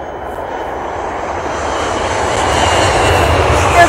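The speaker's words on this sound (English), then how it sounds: "There's my private jet plane right now" A private jet plane passes overhead with a broad, steady engine roar that slowly swells as it draws nearer, heard alone without talk.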